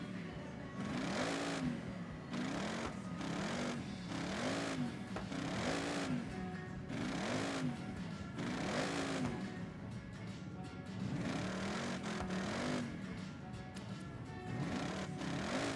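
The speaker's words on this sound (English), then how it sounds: "That's not a very flattering engine noise" A car engine revving in the Forza racing game, a thin buzzy drone that rises and falls in repeated swells over the whole stretch, fairly quiet and steady, with no talking over it.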